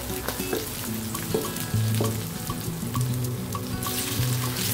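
Tuna sinigang ingredients are stirred in a pan to keep them from burning, a continuous sizzle broken by repeated scraping and knocking strokes of the spoon at an irregular rhythm, no talking.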